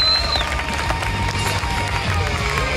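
A crowd at the finals of a Polish Cup event in Chrzanów applauds and cheers after a rider's clean final run. The sound is a dense, steady wash of clapping and cheering, with an announcer's voice faintly mixed in.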